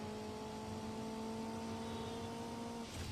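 A car engine in the racing game Need for Speed Underground screams at a steady, high over-revving pitch, loud and sustained for about three seconds before cutting off abruptly.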